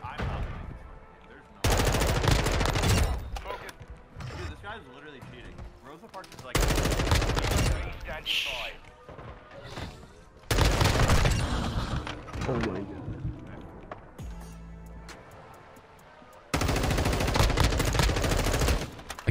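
Call of Duty: Modern Warfare 2 M4 rifle fire comes in four loud sustained automatic bursts separated by quieter stretches, with voices talking between and over the shooting.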